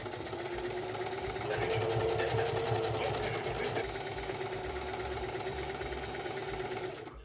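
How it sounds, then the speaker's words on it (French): A sewing machine runs continuously while stitching the hem of a shirt, a steady close mechanical whir with a slight rise and fall in intensity and no pauses. "De l'autre côté de la chemise, je vais passer à la machine avec les lanières."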